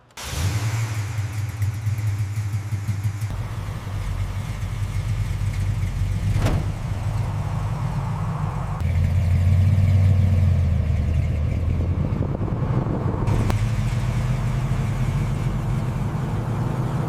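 A restored 1955 Cadillac Eldorado runs steadily with a deep, continuous engine rumble, near and fairly loud, swelling briefly partway through and heard without speech.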